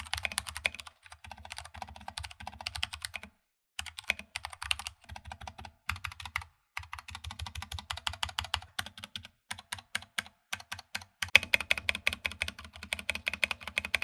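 Fast, steady typing on a compact keyboard with Gateron switches and dedicated arrow keys, close-up clacking in rapid bursts with a few short pauses between runs.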